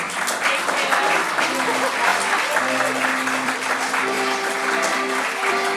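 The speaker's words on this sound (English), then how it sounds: "And a big round of applause for our Master of Ceremony, Aura Imbarus." Loud, sustained applause from a large audience at a solidarity event for Ukraine, honoring the master of ceremonies, continuous clapping with a few crowd voices mixed in.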